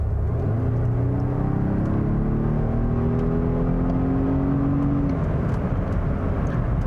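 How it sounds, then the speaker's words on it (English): The 2-liter four-cylinder engine of a 2021 Volvo S90 Recharge sedan revs up loudly and close, its droning pitch climbing smoothly before settling, with a constant rough rumble underneath. "the 2-liter 4-cylinder engine still doesn't make the most wonderful noises."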